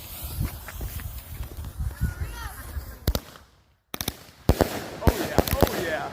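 A PyroBox Rapid Fire firework cake goes off in a sharp string of loud cracks and bangs with a brief pause in the middle, followed by a cluster of louder reports.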